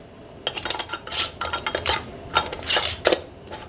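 Glass jelly jars clink and knock as they are set one after another into a home canner, a string of sharp, bright clatters with short pauses between.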